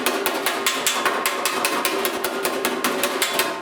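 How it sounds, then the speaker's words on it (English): Rapid, steady hammer taps planishing a severely dented steel fender on a 1969 C10, about sixteen close, sharp metallic strikes in an even rhythm over a ringing workshop background. "I used this hammer, this face of the hammer, to drive the metal down"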